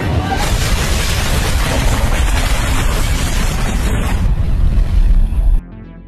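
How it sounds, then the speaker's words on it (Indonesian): A bomb detonates in an action film as hostages are rescued, a loud sustained broadband roar of blast and rumbling debris lasting several seconds before cutting off abruptly to quieter residue. "sebelum bom tersebut meledak"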